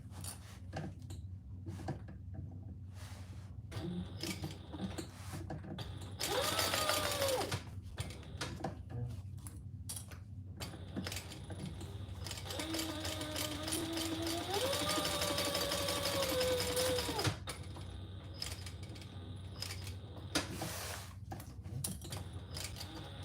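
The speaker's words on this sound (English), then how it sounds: "Just making sure I'm getting my basting stitches in." A sewing machine stitches long basting stitches on a Haralson belt project, running in steady mechanical bursts with pauses between them, fairly close and clear, with faint talking at moments.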